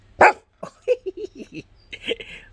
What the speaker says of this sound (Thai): อ่ะเห่าดิฮง เอ อเสียงเบาๆเอาขอดังขึ้น